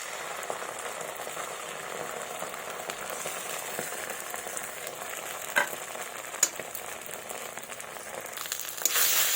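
Ground spice paste sizzles steadily in hot oil over fried onions and panch phoron while fish with ridge gourd cooks. The crackling is dense and continuous, with a few sharper pops and a louder burst near the end.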